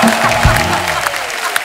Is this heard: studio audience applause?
yes